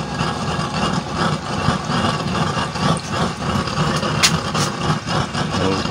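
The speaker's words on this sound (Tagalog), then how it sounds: "let's adjust the blower." Blower running steadily on a burner fitted with a new low-carbon nozzle design, set at low speed, giving a constant loud engine-like drone with no talk.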